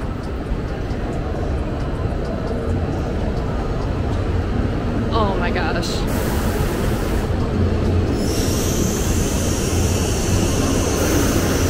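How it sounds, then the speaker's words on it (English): A bullet train rushes into a station in Japan with a steady broadband roar and a rising hiss, while a person exclaims briefly over the noise. "Here comes my train."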